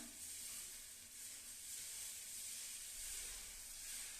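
Dosa batter sizzles steadily on a hot pan as it is spread thin, a continuous bright hiss that holds at an even level for the whole stretch, with no voices.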